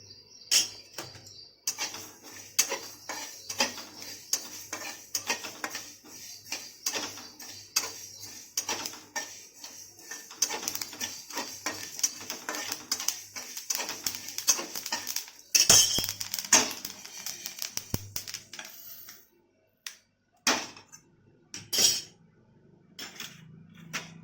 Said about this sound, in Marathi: आता ही मोहरीची डाळ मी थोडीशी थोडीशी भाजून घेते